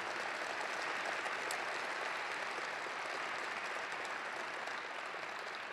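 A press-conference audience breaks into a sustained round of applause, a dense, even wash of clapping that stays fairly distant and soft throughout.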